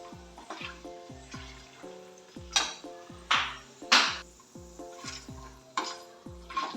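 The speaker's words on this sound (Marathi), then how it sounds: "तेलामध्ये आपण हिलाही व्यवस्थित भाजून घेऊ" Dal roasting in hot oil for makhana chivda, with steady sizzling and repeated rhythmic scrapes and stirring clinks of a spoon against the pan, close and fairly loud.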